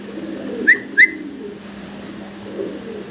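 Fancy breeding pigeons, three to four feathers old and in breeding mood, give two short close coos in quick succession, then fall quiet over faint background hum.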